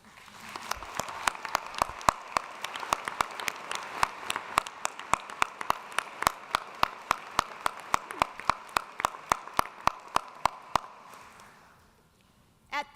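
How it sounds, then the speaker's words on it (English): Commencement crowd in a university arena clapping in a fairly sparse, steady rhythm of distinct claps for about eleven seconds, moderately distant, then stopping. "Please join me in applause for each other."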